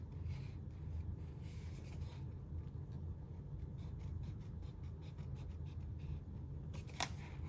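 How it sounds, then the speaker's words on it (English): Paper being cut with scissors along a drawn black line, trimming away the white edge; a steady close crunching snip runs continuously, with a sharper click near the end. "I'm going to go right up along that black line, cutting off the white."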